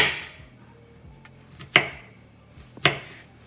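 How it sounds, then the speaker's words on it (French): Garlic being chopped with a knife: two sharp, distinct blade strikes on a board, roughly a second apart, with faint quieter taps in between and no talk. "Ensuite, je viens découper l'ail."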